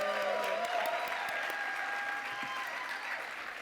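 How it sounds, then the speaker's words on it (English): An audience at a school event applauds emissaries, producing dense, sustained clapping that stays strong and close throughout and fades only slightly toward the end, with no voices over it. "Now, please clap your hands for our current emissaries, Renana and Ruth Ben-Porat and Asif Peretz."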